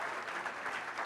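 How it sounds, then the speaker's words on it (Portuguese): Applause breaks out for a cooking couple after a rabada dish, a brief burst of clapping from a small group, fairly faint and without distinct voices. "aplausos pro nosso casal"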